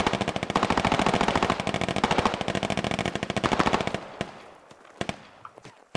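Rapid automatic gunfire from a military squad shooter game, dense continuous bursts for about four seconds, then a few scattered single shots trailing off into quiet.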